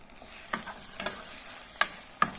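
A utensil quietly stirs a spiced stuffed-pepper filling, giving a few soft scrapes and four distinct light taps over faint background hiss.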